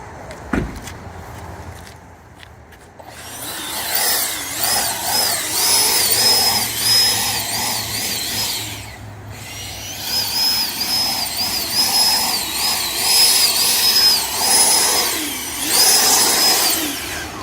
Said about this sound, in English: you can still see how powerful this blower is